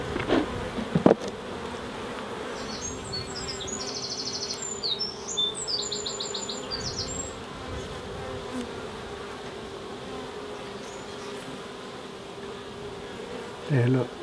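Honey bees from a swarm hum steadily around a hive, a close, constant drone with a few nearby knocks and a faint bird chirp in the background.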